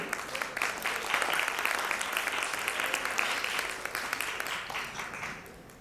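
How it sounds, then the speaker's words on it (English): Audience applause at a pitching session and masterclass, sustained crowd clapping that builds and holds for several seconds before tapering off. "we've got to give the official round of applause, don't we?"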